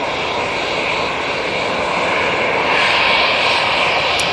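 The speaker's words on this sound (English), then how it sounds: "Lined up now is the British Airways shuttle" A British Airways shuttle jet takes off for Heathrow from Manchester Airport, its engines giving a loud, continuous roar that swells slightly toward the end.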